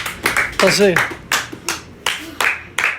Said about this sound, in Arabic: تصفيقة